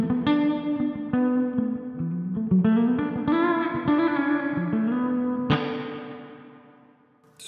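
Electric guitar played through the spring reverb setting of a Flamma FX20 delay and reverb pedal: chords and single notes ring out with a splashy, boingy spring-style tail, loud and alone, then a final chord decays slowly into quiet.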